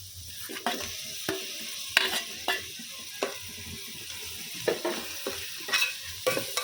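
Tomatoes for a vegetable biryani frying in a pan under a steady low sizzle, broken by repeated sharp scraping knocks of a spoon as they are stirred, spaced about every second.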